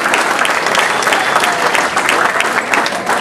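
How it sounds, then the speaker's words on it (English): A loud banquet crowd breaks into sustained applause for an NCCA under-90 team that has just won the national championship, steady dense clapping filling the room for the whole stretch with no talk over it. "So one big round of applause to our NCCA under-90 boys winning the national championship"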